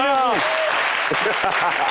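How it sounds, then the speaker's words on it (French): Studio audience applause on a television entertainment show, a dense wash of clapping that starts right after a voice and carries on under more speech through the short stretch. "On applaudit pour l'ivoire."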